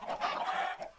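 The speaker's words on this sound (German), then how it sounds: "Oh, die Hühner." Video-game chickens clucking in a busy, overlapping flock, loud and close, with short bursty calls running throughout and a brief dip near the end.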